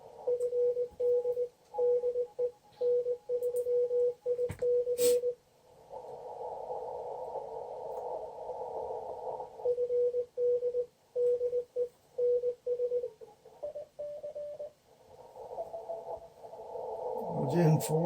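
Amateur radio Morse code received during a 2018 Field Day event: a keyed sidetone beeping in dots and dashes, interrupted by bursts of noisy radio signal and static as stations come and go.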